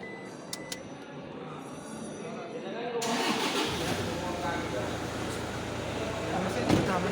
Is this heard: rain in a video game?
no